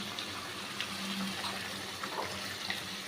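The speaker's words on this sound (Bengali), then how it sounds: "জলটাকে অ্যাড করে দিলাম আমি।" Water pours steadily into a pan of katla fish kalia curry, a soft continuous splashing wash that runs faint and even throughout.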